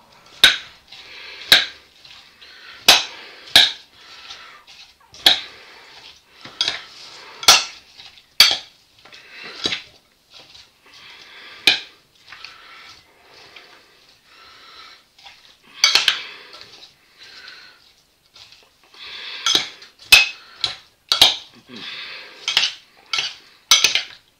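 A spoon stirs potato salad with two spoonfuls of mustard in a dish, producing sharp clinks and scrapes against the bowl in irregular bursts, sometimes clustered, over quiet gaps.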